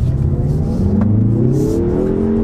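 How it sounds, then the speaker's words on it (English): A 2021 Mazda3 Turbo AWD hatchback accelerating hard, its engine note climbing steadily in pitch through the rev range as it pulls strongly, loud and close from inside the car, with no talking. "And let's do another acceleration."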